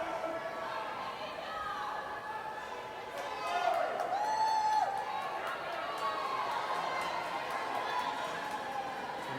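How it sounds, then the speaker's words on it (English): Spectators at a swimming pool during a 2012 Summer Games aquatics race cheering for swimmer Andrew Day, a distant, echoing crowd roar with scattered shouts beneath a commentator's voice. "Here's some folks cheering for Andrew."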